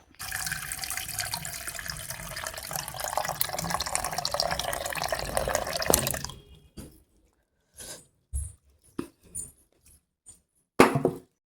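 Mineral water pours steadily into a bowl of flaxseeds for several seconds, rising slightly in pitch as it fills, then stops, followed by a few faint knocks and clinks.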